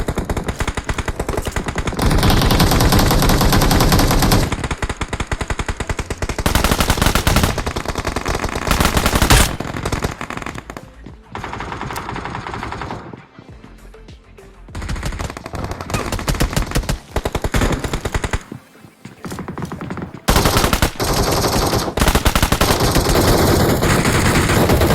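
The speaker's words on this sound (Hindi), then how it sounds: "लेकिन नीचे बहुत जोर से गोली चल रही होती है।" Heavy gunfire in the BGMI (PUBG Mobile) video game, with loud sustained automatic bursts filling most of the span and brief pauses between volleys.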